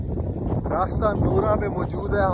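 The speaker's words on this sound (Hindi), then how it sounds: "हवा चल रही है फुल स्पीड के साथ" Strong wind blows at Rasta Naura beach in Dammam, Saudi Arabia, buffeting the microphone with a rough, fluctuating rumble beneath someone speaking.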